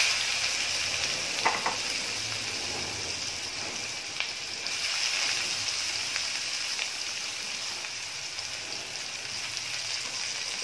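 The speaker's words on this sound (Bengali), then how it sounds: "এবার এর মধ্যে দিয়ে দেব পেঁয়াজ কুচি।" Chopped onions go into hot oil already fragrant with whole garam masala spices, giving a steady, close hiss and crackle of frying that runs on evenly with a few faint clinks and no talk.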